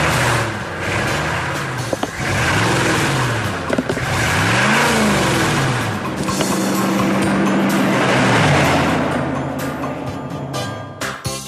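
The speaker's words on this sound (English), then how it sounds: "On a busy highway, huge trucks go whizzing by." Huge trucks whiz past on a busy highway, their engines swelling and fading one after another with pitch sweeps as they pass close by, amid continuous loud traffic roar.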